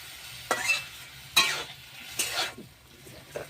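Pumpkin leaves are stirred in a pan, and four distinct scraping strokes of a utensil rise over a faint background sizzle, spaced about a second apart.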